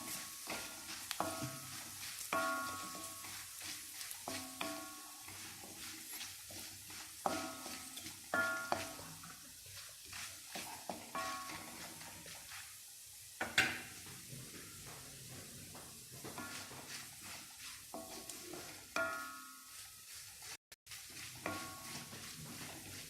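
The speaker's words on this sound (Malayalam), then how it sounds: "നമുക്കിത് പാവയ്ക്ക ആവശ്യത്തിന് വറുത്തിട്ടുണ്ട്" Dried bitter gourd fries in oil in a pan with a soft, steady sizzle. Irregular scraping strokes stir it throughout, and one sharper clatter comes midway. The sound is quiet and close, with no voices.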